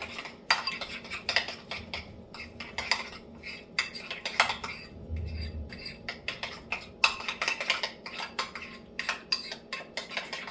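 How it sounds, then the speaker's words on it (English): Egg yolk being mixed with other ingredients for deviled eggs, a utensil clinking and scraping against a bowl in quick irregular taps, faint and close. "Just gonna mix our yolk into our other ingredients."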